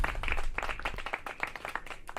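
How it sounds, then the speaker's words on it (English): Brief burst of applause from a small group, rapid overlapping claps at moderate loudness for about two seconds, with no voices. "Clap it up for that"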